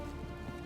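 Steady rain from the video game Hitman 3, a dense continuous patter at even loudness with no voices, lasting under a second.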